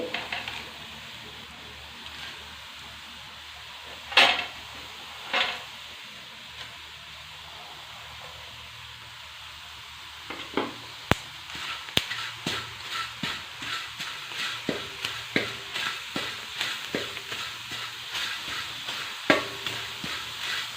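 Hibiscus flowers and curry leaves dry-roast in a pan for a homemade hair dye, heard as a quiet crackle and a few isolated knocks, then a busier run of close scraping stirs and light sizzling.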